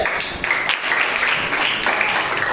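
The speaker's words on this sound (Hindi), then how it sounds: "ताली हो जाए जोर से" Schoolchildren in a classroom break into loud, continuous clapping that runs steadily throughout, with no voices over it.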